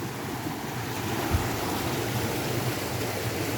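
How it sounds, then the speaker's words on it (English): A creek flowing under a footbridge on a hiking trail, a steady close rush of running water with one soft thump partway through and no talking. "Check this creek."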